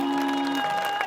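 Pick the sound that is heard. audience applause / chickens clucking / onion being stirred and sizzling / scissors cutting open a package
audience applause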